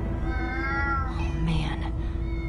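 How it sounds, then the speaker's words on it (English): Cats meow in the Minecraft Story Mode video game. One clear drawn-out meow is followed by a shorter, rougher cry over a low background hum. "she owns way, way too many cats"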